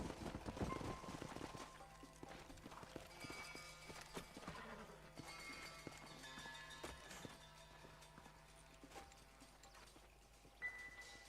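Steady clip-clop of horse hooves trotting at moderate distance in the video game Red Dead Redemption, with a faint low hum running underneath and a sharper knock near the end.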